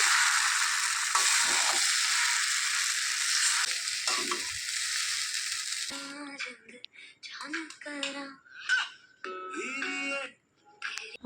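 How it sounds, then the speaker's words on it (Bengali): Bottle gourd leaf paste mixed with Maggi sauce is stirred in a pan, giving a steady, close scraping sizzle for about six seconds before it stops and voices begin talking. "দিয়ে একদম নাড়াচাড়া করে নেব এই যে আমি ভালোভাবে মিশিয়ে নিচ্ছি"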